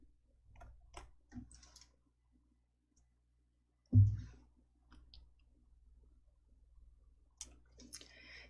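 A computer mouse clicks a few times, faint, close and sparse, with one louder thump partway through and quiet room noise between the clicks.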